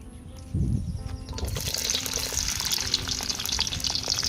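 Garlic frying lightly in oil for a duck curry in a village kitchen, a low clatter and stir giving way to a steady bubbling sizzle, close and moderate in level.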